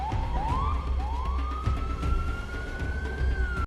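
An ambulance siren in a film wails with rising, sweeping tones over a rumbling low background, loud and continuous for several seconds, with no speech.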